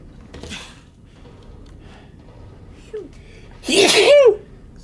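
One sudden, loud human sneeze bursts out near the close, preceded by a small sniff and a quieter breathy sound, against an otherwise near-silent room.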